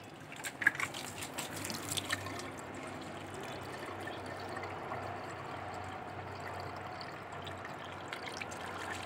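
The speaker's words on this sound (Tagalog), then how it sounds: "So, lagyan natin ng tubig." Water poured into a car radiator during a flush, a soft trickling and dripping stream that starts with a few brighter splashes, then settles into a faint, steady pour with no voices.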